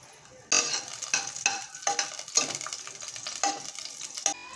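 Four garlic cloves frying in a spoonful of oil for a carrot broccoli soup, a close, steady sizzle broken by repeated scraping stir strokes at an uneven rhythm, with no voices.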